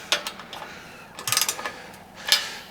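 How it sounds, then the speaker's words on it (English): A torque wrench ratchets as bolts are tightened evenly on a double hydraulic PWC lift during assembly, giving short bursts of close, crisp clicking separated by brief pauses. "So I got my torque wrench"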